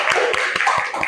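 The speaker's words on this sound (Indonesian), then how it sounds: "Tepuk tangan untuk kalian semua." Students clapping hands in a classroom, a short burst of five evenly spaced claps, close and fairly loud.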